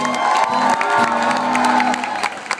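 A concert crowd at a cover show cheers and whoops loudly and continuously. Shouting voices blend into one sustained roar that eases slightly near the end.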